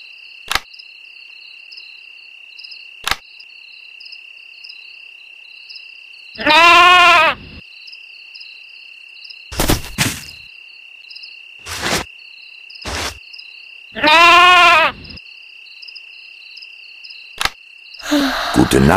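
Two drawn-out bleats, like a sheep, stand out over a steady chirping insect-like drone, with a few sharp clicks scattered between them.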